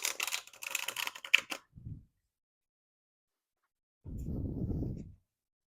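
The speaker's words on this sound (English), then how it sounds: "My mom taught me to riffle playing cards pretty young" Tarot cards are riffle shuffled close up: a quick burst of fluttering snaps, a short pause, then a soft rushing ripple as the deck is bridged together.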